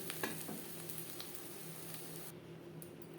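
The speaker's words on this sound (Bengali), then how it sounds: "এখানে আমি 3টে ডিম একসাথে অমলেট করছি।" Three beaten eggs frying together as an omelette in a pan, a steady close sizzle of hot oil with faint scraping, even and continuous throughout.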